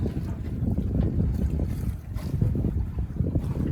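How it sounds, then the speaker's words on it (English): Steady wind rushes and buffets across the microphone aboard a Beneteau Oceanis 281 sailboat, with water washing along the hull and a brief lull before the gust picks back up. "here comes a little bit of a gust."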